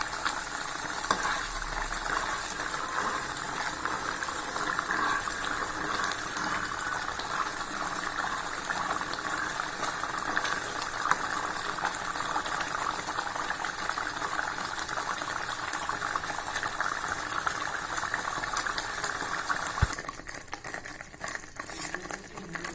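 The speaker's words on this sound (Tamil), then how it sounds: "நல்லா கொதிக்குது பாருங்கள். நல்லா கொதித்து சுண்டி வரணும்." Tomato jam with cashews and raisins boiling in a pan: dense, steady bubbling and popping, close and continuous, with no voices.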